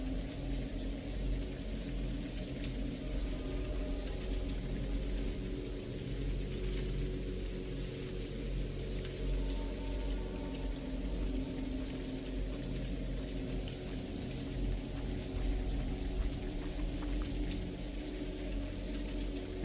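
Steady rain falls in a video game, Johnny Boy: Red Moon's Kiss, a dense, continuous wash of drops with a low rumbling undertone that holds an even level for the full stretch, with no voices.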